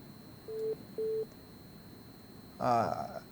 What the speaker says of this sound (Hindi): देखिए, फोन काट दिया।